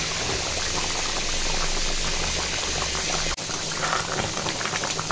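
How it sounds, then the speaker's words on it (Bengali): Chicken curry with fried pointed gourd simmering in a pot, bubbling steadily and close up with a constant wet sizzle, cut briefly by a short break partway through. "মাংসটা হয়েই এসেছে, অল্প সময় একটু ফুটিয়ে নেব, হয়ে যাবে।"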